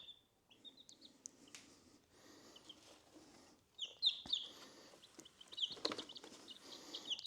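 Two-week-old baby chicks peep in high, thin chirps, scattered at first and then denser and louder toward the end, with a faint low background rumble underneath.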